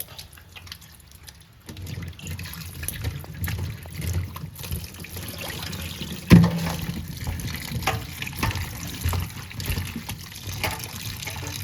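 Chalta, elephant apple, being washed in water, with trickling, splashing and dripping sounds that start quiet and grow busier, plus a sharp knock partway through, close and moderately loud without talk.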